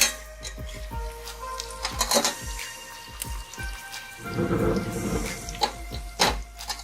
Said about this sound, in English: we can add green chilies. Stir it well.